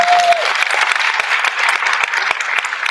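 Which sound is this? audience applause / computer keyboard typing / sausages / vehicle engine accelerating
audience applause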